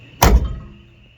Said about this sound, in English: We got the trunk lined up, doors closing.